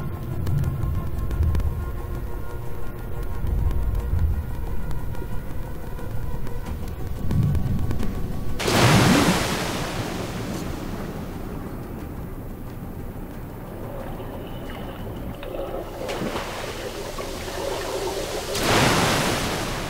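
River water rushes in Metro: Last Light, a continuous churning roar that surges loudly twice in sudden heavy bursts, with no voices.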